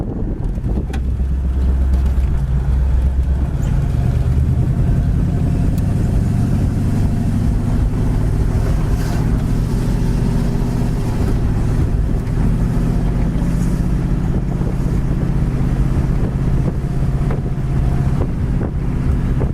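A 1966 Ford Mustang convertible, A-code GT, cruising down the road, heard as a steady, loud rumble of engine and road noise with heavy wind buffeting across the microphone throughout.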